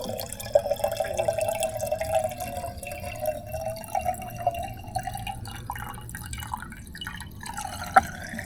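Water runs in a thin steady trickle from the twist spout of a low-cost water container, a close, quiet stream with faint drips and a small clink near the end.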